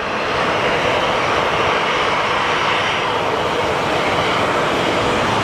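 A plane flies at Sky Harbor Airport, a steady, loud broadband roar of aircraft engines holding at the same level throughout with no break or talk.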